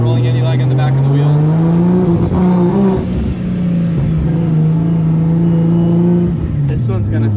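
A 1200-horsepower Ford Mustang revs and accelerates hard, a loud, close engine note rising and falling in pitch with throttle swells, sustained throughout with a brief dip midway.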